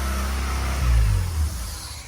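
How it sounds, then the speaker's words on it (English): A Ford Eclipse car engine, built in the style of the Fast and Furious car, runs loudly and revs with a heavy, close, low rumble that swells briefly before settling back. "the engine's running and driving"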